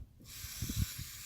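Sensor cleaner sprays in one steady, close hiss onto the mass air flow sensor of a 1996-2002 Toyota Camry, with faint low knocks underneath.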